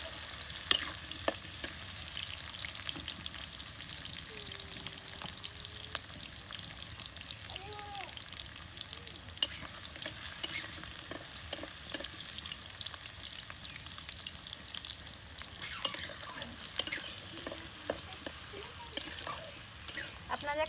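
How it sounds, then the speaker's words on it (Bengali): Potatoes fry in hot oil with a constant close crackling sizzle, broken by scraping stirs and clatters of the spoon that grow busier toward the end. "আলুগুলো আমি খুব ভালো করে ভেজে নেব।"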